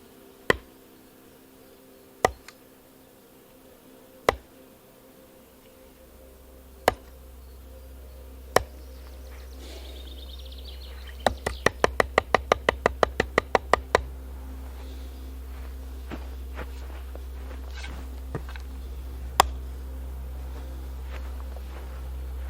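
On a Saturday morning in a village, neighbours split wood with axes and log-splitting blows ring out at a distance: single sharp knocks every couple of seconds, then a rapid burst of a dozen quick strikes, against a low steady hum.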